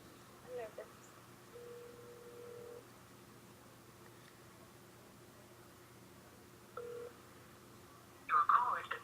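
A phone is dialed for a prank call: several short key tones spaced apart over a faint line hiss, ending in a brief burst of voice from the line.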